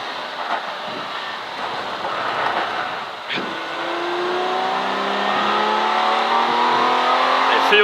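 A V12 race car engine howls around Silverstone circuit during a classic car race, the note climbing steadily through the gears with a brief dip partway, loud and continuous from inside the car.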